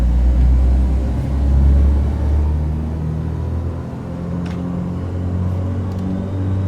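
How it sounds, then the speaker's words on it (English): A 1980s Beechcraft Duke's engines run up to 2000 RPM with the turbocharger spooling, a steady loud low rumble and drone that swells slightly early on, with a faint rising whine on top. "That's the turbocharger you hear there."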